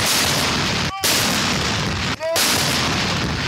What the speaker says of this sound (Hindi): कोयटा में दिन का आगाज 21 तोपों की सलामी से हुआ।